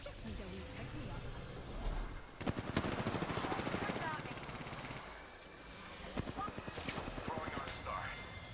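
Gunfire erupts in an Apex Legends match, with rapid bursts and single shots cracking over busy game noise while a voice talks over the action.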